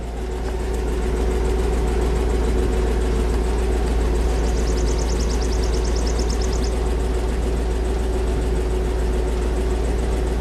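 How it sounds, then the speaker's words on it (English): A 1958 Buick Limited Convertible sits idling, its engine giving off a steady, deep, even rumble at close range with no talk over it. "Let me listen to the idle."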